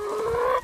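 A little rooster named Buck gives one close, sustained clucking call out in the yard, the sound trailing off abruptly at the end.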